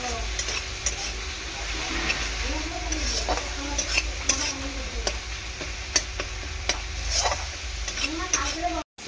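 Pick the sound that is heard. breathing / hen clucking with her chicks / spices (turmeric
spices (turmeric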